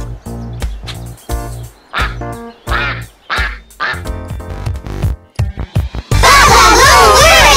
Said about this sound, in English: Mommy Duck said quack, quack, quack, quack